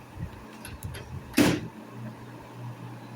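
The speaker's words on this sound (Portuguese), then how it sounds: "Fechando a porta." A microwave oven door swings shut with one short, sharp thud in a quiet kitchen setting, with faint low background hum before and after.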